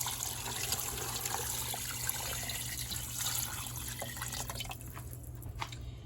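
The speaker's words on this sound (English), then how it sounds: "So I'm just going to dump the water in." Water is dumped into a pressure cooker for beef stew, a steady splashing pour with trickling and dripping that thins out near the end, close by with kitchen background hum.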